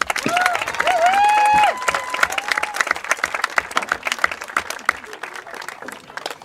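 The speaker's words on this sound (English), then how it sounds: "Please join me in a round of applause for Chitty Timbo." Applause from a crowd at a football event as a player is introduced, a dense run of many hands clapping that starts strong and thins slightly, with brief whistles or cheers near the start.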